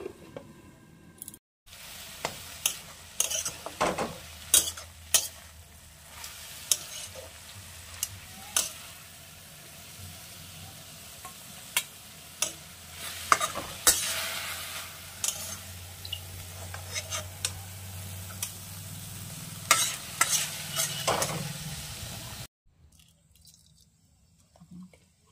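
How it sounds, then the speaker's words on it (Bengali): Whole cumin seeds heat in oil in a village kitchen, with a soft continuous sizzle under scattered stirring clicks and scrapes, then a sudden drop to near silence at the end. "তো তেলের মধ্যে গোটা জিরাকে দিয়ে দেওয়া হয়েছে, জিরাটা একটু গরম হচ্ছে।"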